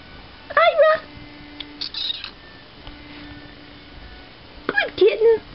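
A tiny kitten gives two clear meows, one near the start and a double meow near the end, separated by quiet with faint soft sounds in between.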